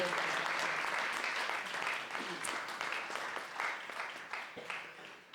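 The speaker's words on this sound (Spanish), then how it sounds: "un último aplauso para ellas" Audience applause for two women guests wrapping up a live talk show, a dense steady patter of many hands that slowly thins and fades toward the end, moderately distant, with no talking over it.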